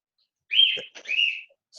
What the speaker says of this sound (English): I hear a parrot going out in the background